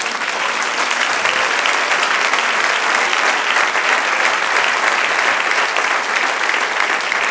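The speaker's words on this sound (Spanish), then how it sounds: "Denle un aplauso al Señor." A church congregation breaks into loud, continuous applause during a sermon, with thick, even clapping filling the whole stretch.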